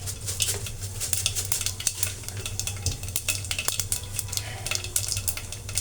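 Mustard seeds and cumin spluttering in hot oil: dense rapid crackling and popping over a low hum, with faint utensil clinks, close by and without any voice.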